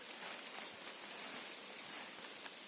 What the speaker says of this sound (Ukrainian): де може з гілля капає, з дерев